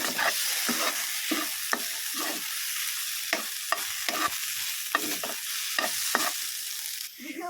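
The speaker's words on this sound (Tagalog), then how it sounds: "Nilagay ko na rin yung oyster sauce at tomato paste. Mix lang natin ito guys." A spatula scrapes again and again through oyster sauce and tomato paste in a sizzling pan, about a dozen rhythmic strokes over a steady fry hiss. The sound is close and no one speaks.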